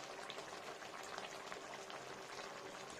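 Bengali sukto, a vegetable curry of eggplant, long beans, green banana, bitter gourd, potato, tomato, ginger, onion and garlic, bubbles in a pot with a soft, continuous crackling simmer, quiet and steady.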